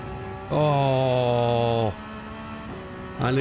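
A race car engine in a racing video game revs hard for over a second as the car accelerates out of a corner, then drops away and picks up again; loud and steady with no talk.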